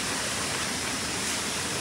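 Fast mountain stream in Nepal, its water rushing steadily as a dense, even wash of noise with no pauses and no voices.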